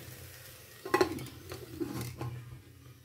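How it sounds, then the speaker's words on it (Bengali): Ridge gourd being sautéed in a pan for a quick sabzi, a soft low sizzle broken by a few distinct stirring scrapes and knocks of the spatula, quiet and close, with no talking. "একটু কষিয়ে নিই, ঝিঙেটা না কষিয়ে নিলে তো ভালো লাগবে না।"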